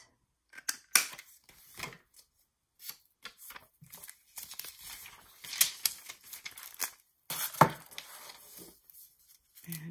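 Vellum paper cut by hand with scissors, eyeballed without a cutter, giving a series of close, crisp snips and rustles in irregular bursts over a quiet room, with no talking.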